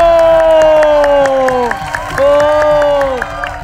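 Studio audience on an Indonesian television game show applauds and cheers, a steady wash of clapping and voices blended with a loud, sustained musical jingle that dips briefly midway.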